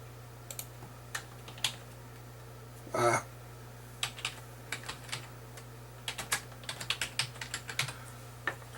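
Irregular keystrokes on a computer keyboard while entering title text, soft close clicks spaced unevenly with one brief louder rattle early on, over a steady low electrical hum.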